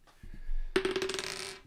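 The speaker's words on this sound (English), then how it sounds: "Okay, let's roll the dice." Dice tumble and clatter onto a hard surface during a live sports card box break giveaway, a brief burst of sharp rattling impacts that settles within about a second.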